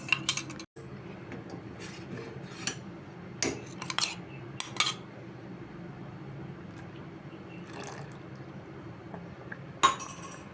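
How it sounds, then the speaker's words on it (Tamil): Cornflour slurry is stirred into milk in a pan for mango kulfi. Sparse metallic clinks and taps from the utensil against the pan come over a quiet, steady background hum. "கார்ன்ஃப்ளவர் மாவு சேர்த்தியாச்சு இப்போ கைவிடாமல் நல்லா கிளறி கொடுங்க"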